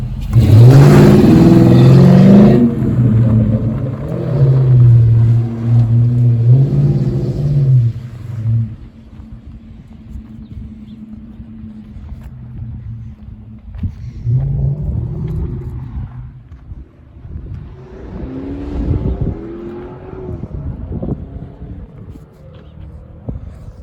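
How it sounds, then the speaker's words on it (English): A 2007 Dodge Charger AWD fitted with a junkyard Ram 1500 engine drives off on its first test run, revving loudly and rumbling up close, then settling to a quieter cruise with further rises in revs. "First test drive with the new engine."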